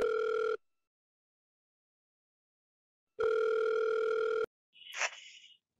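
An outgoing telephone call sounds two long ringback tones separated by silence, then a short pickup noise at the end, quiet and clean with no voices.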